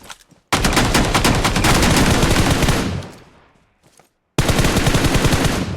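Rapid bursts of automatic gunfire in PUBG Mobile rattle loudly for a few seconds, fade away, then a fresh volley erupts after a short silence.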